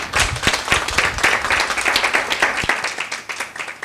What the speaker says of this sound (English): Applaud her.